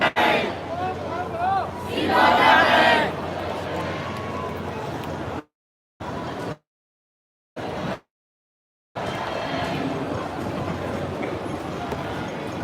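A crowd of Hong Kong patriots gathers in Central, heard as a loud, dense hubbub of many voices with shouting and cheering swells early on, broken by brief signal dropouts into silence, then resuming as steady crowd noise.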